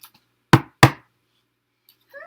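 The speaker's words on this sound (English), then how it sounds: "until she heard a knock" Two sharp knocks on a door, spaced a moment apart, loud and close, with silence before and between them and faint faraway sounds trailing at the end.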